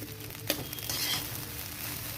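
Rice sizzles and crackles steadily as it fries in a pan for basanti pulao, with a brief clink of stirring near the start and no voices.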